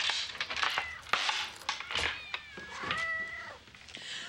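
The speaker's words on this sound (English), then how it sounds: "Well, let me put my cat up." A cat meows several times close up, with drawn-out, wavering calls amid light indoor clatter and no speech.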